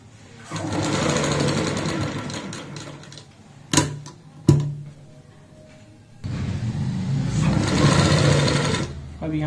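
A sewing machine stitches along a jute sack being made into a doormat, running in two long rattling bursts separated by a quiet pause with a couple of sharp knocks, close up.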